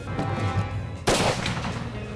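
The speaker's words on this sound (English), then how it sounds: "Just shot my red stag leaning up against an oak tree." A hunting rifle fires once at a red stag standing against an oak tree in the English countryside, a single loud, sharp crack partway through that rolls off into a fading outdoor echo.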